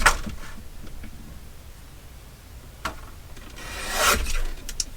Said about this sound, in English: I'm just going to cut this to just straighten it out